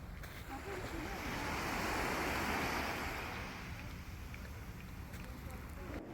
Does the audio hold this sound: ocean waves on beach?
yes